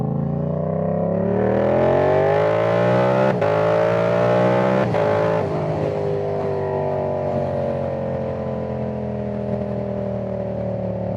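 A Yamaha R7 motorcycle with a loud aftermarket exhaust roars close by while being ridden, the engine note climbing through revs, dropping with sharp cracks between shifts, then settling into a steady drone.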